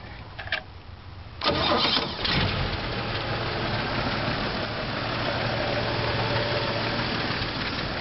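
A 1967 Chevy C10 with a 250 straight-six engine cranks briefly, catches and settles into a steady, even idle that runs on close and loud.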